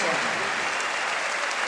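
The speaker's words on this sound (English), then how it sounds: "the crowd here in Bahia Blanca acknowledges the great effort by the Virgin Islanders tonight" A basketball crowd in Bahia Blanca at the FIBA AmeriCup applauds the Virgin Islands team, dense steady clapping filling the arena for the whole stretch, with a commentator's voice faintly mixed in.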